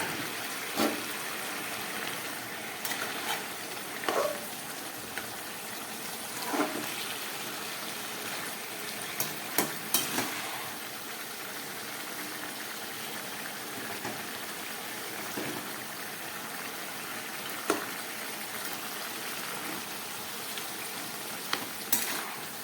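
A fried fish head goes into a simmering curry with Malabar spinach, and the quiet, continuous sizzle is broken by occasional soft clicks and scrapes of stirring.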